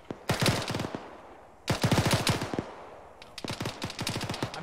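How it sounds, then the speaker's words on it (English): Bursts of rapid gunfire crackle from a distance during a military field training exercise near a barn, three rattling volleys separated by short pauses, with no talking over them. "I'm definitely hearing shots over somewhere in the vicinity of that barn area."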